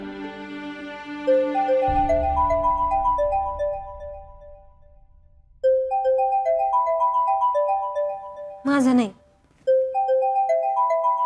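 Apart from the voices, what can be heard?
mobile phone ringing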